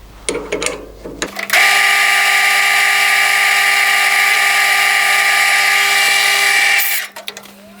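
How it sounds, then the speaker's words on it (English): A drill press or bench drill enlarges a hole to the next size in a drive piston part for a small adjustable-crank hot air engine, running as a loud steady whine for about five seconds after brief handling noises, then spinning down. "I'll go and grab another drill and I'll drill it the next size."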